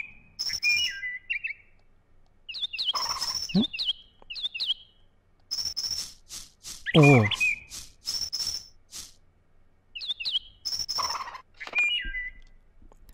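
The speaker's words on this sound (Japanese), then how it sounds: "お昼にしか見ることができない貴重な鳥、旋回しながら獲物が来るのを待っているらしい。" Bird chirps in the video game moon, a rare daytime bird circling while it waits for prey: repeated bright whistled tweets in short bursts with pauses, loud and clear, with a brief spoken exclamation in the middle.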